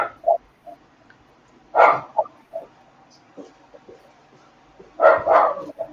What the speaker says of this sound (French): C'est ton petit chien?